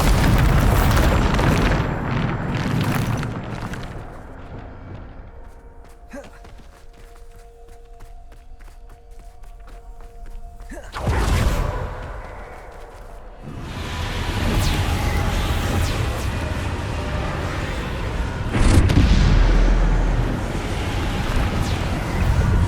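Bombarda explosion spells go off in the video game Hogwarts Legacy, heavy booming blasts with rumbling low tails, separated by quieter stretches of ambient game sound and a louder burst toward the end.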